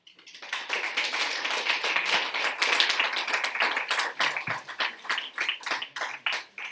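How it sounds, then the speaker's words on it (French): Audience applause rising and fading after the end of a French-language lecture on prison law, steady dense clapping from many hands in a hall, thinning out into scattered claps toward the end. "avec vos applaudissements en plus"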